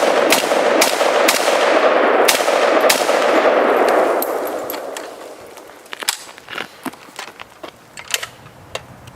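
AK-47 rifle shots fired at a propane tank outdoors, several loud sharp reports in quick succession with ringing decay, then quieter metallic clicks and handling noises as the firing stops.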